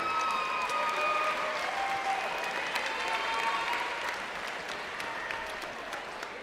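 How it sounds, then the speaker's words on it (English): Steady crowd applause in a school gym for the women's basketball team, dense and sustained, slowly fading toward the end. "Let's give a big round of applause for women's basketball."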